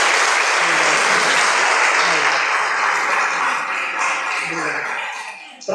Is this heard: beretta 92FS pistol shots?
no